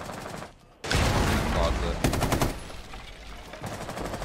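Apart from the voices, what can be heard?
gunfire in the video game Rainbow Six Siege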